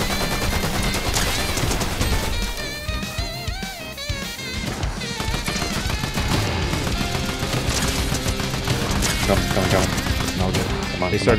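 Gunfire in the video game Fortnite crackles in rapid bursts through a loud, busy battle mix, with people talking over it.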